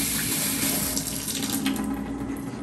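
Kitchen tap running steadily into a sink while hands are wet for handling sourdough baguette dough, a continuous close splashing flow with no talking.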